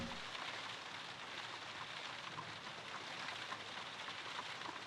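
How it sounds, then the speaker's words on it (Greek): Steady rain in a Sherlock Holmes detective video game, a constant soft wash of falling drops with no breaks, faint and even throughout, with no voices over it. "Και μια χαρά το περνάμε στη βροχή, μου φαίνεται."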